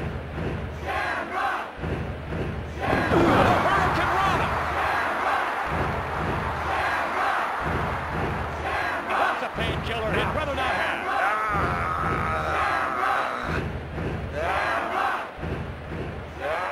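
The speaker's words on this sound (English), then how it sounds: "Listen to this crowd!" A roaring arena crowd at a televised-style wrestling match in the WWF Warzone video game, featuring Ken Shamrock against the British Bulldog, swells steadily and stays loud throughout, with chants and thuds mixed into the continuous din.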